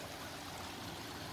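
Spring water from a mountain source runs steadily down through a pipe by gravity, a continuous close rushing flow with no talk.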